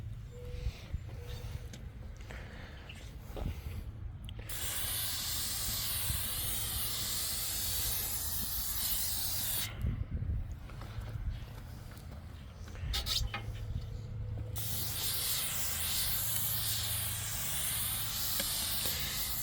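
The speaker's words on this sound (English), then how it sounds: "if your spray catches fire, then you just take your finger off the trigger" PAM cooking spray hisses in sustained bursts from an aerosol can into an old smoker's cooking chamber, with brief pauses between sprays.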